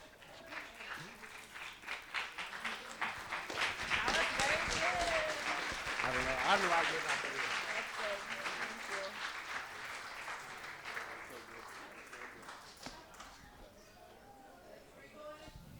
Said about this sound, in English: Can we give a huge round of applause for how beautiful they both look tonight?